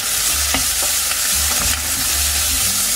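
Onions fry in a pan with a constant loud sizzle, while a utensil stirs them in repeated soft scraping pushes that sit under the hiss.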